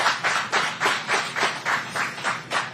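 Scattered rhythmic hand clapping at a Monster Energy Supercross press conference in Arlington for the podium riders, about ten distinct close claps in steady succession with little else around them.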